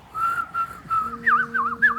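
A person whistles to imitate and attract birds, starting with short steady high notes and then shifting into warbling, sliding birdlike phrases, close and clear against faint background noise.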